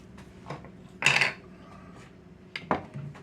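A utensil scoops soft oven-roasted sweet potato with butter and cinnamon from its skin, giving a few quiet clinks and scrapes against a dish, spaced irregularly with a near, soft handling sound between.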